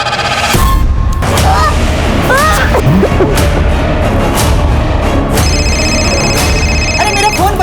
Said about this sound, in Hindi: अरे मेरा फोन बज रहा है, हम आते हैं।